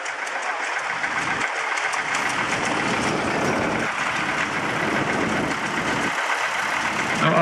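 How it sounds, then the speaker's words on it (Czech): A 1959 Zetor Super 50 vintage tractor fitted with a protective frame and cab runs at a tractor show in Čáslav, giving a loud, steady diesel rumble with rough low-end pulsing that continues throughout. "je to Zetor Super 50 z roku 1959"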